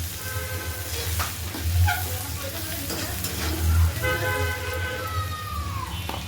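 Onions sizzling in a pan for thankuni leaf bhorta, a continuous frying hiss with stirring clatter, while car horns toot faintly outside in the background.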